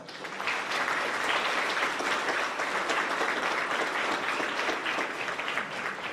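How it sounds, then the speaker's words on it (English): A school awards ceremony for grades 4–6 fills with sustained, dense applause from the audience, steady and loud for the full length with no talk on top. "Give everybody a round of applause."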